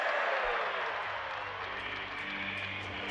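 A Battle Brothers arena crowd gives a sustained roaring cheer, a dense, even wall of noise from many voices that holds steady throughout at a loud level, with no one speaking over it.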